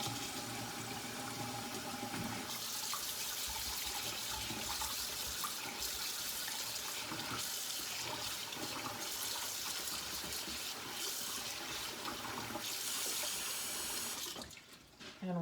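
Rice is washed in water under a running tap, a steady close splashing and gushing of water with swirling and rinsing sounds that falls off near the end.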